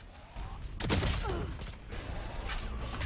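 Gunfire in a Valorant match on the map Haven, a sharp burst of shots followed by mechanical clatter and lingering noise, fairly loud and close.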